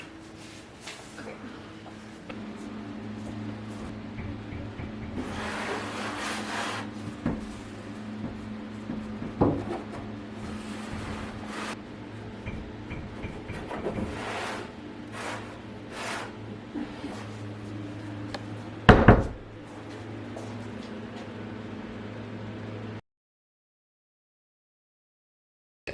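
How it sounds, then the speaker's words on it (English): Panels backed with double-sided tape pressed onto the back of a door: scattered rubs, soft knocks and handling noises, with one sharper thump near the end before silence. "I'm going to stick them on the back of our door and see how it looks."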